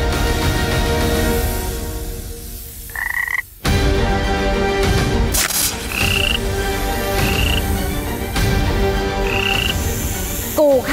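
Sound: toad croaking

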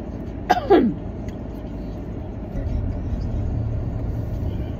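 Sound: car driving on road

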